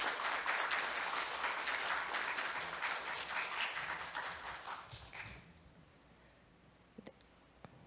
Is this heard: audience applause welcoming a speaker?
yes